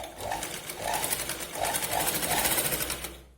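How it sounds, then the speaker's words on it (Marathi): A sewing machine runs steadily while stitching the shoulder seam of a katori blouse, with a rapid mechanical whir close by and a short rising-falling rhythm as the fabric is fed along at an angle. "शोल्डरला शिलाई लावताना आपल्याला थोडंसं आपल्याला याला तिरकशी शिलाई लावायची या पद्धतीने"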